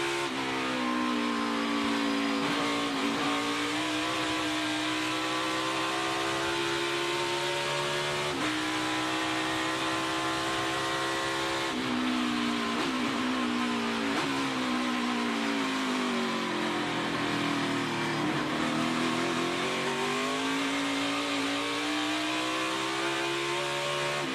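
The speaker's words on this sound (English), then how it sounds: "Feathering that throttle through the carousel is Justin Haley." A race car engine at the Henry 180 is feathered through the carousel corner, a loud, sustained whine that dips and surges in pitch as the throttle is eased and reapplied, alone without talk.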